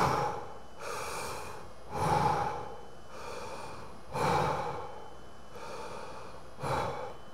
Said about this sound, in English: Let's take a look at what happens when I do heavy or deep breathing.